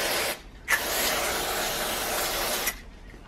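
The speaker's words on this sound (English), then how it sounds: "Then you can use some brake cleaner to remove any brake fluid that leaked out." Brake cleaner hisses from an aerosol can onto a motorcycle brake to wash away leaked brake fluid, one short burst followed by a longer steady spray of about two seconds, close and fairly loud.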